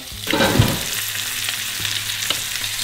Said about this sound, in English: Let it all kind of cook around. Let that fish really get black on either side.